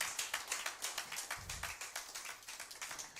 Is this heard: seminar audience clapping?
yes